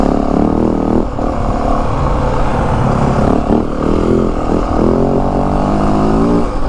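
A 2025 Yamaha WR 450F dirt bike rides a trail, its engine droning steadily and close throughout, with slight rises and dips in revs and no voices.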